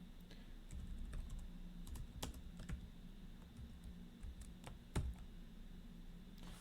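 Quiet, irregular clicking of computer keyboard typing runs throughout, with scattered sharper key strikes and a louder tap near the end, no voices present.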